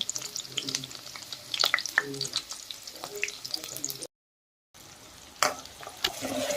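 Onions and green chillies frying in a pan for a ridge gourd gojju, a continuous crackling sizzle with stirring scrapes and a brief dropout partway through, with no voices.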